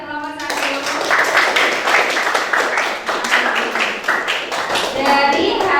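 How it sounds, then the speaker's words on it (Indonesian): A classroom claps for a group of students: a dense, steady burst of many hands applauding together for several seconds, with children's voices mixed in. "kita beri aplaus dulu ya untuk kelompok"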